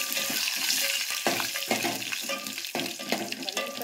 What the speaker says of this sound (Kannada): ಒಣಗಿದ ಕೊರಿಬೇವು, ಒಣಗಿದ ಮೆಣಸಿನ್ಕಾಯಿ ಹಾಕೊಂಡು